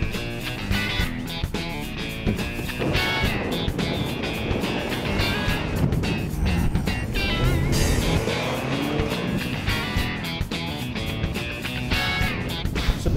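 Mini Countryman John Cooper Works being driven, a loud, continuous engine and road roar rising and falling as the car moves along, with some brief louder surges.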